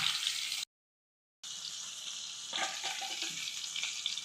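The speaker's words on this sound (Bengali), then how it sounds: "সব কটা এমন করে আমি ভেজে নিচ্ছি।" Chicken pieces for a malai curry shallow-fry in a pan until light brown, giving a steady, close, hissing sizzle that cuts out briefly, then resumes with a few soft stirring knocks.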